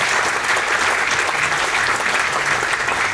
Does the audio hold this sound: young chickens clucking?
no